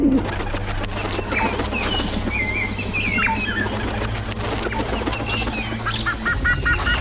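Pigeons coo softly amid a busy outdoor background, with wing flaps and other birds calling nearby.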